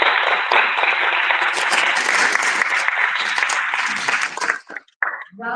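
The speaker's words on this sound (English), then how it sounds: "One more round of applause for our candidates." Audience applause for school board candidates at a community candidate night, a dense sustained round of clapping from a crowd that fades out near the end.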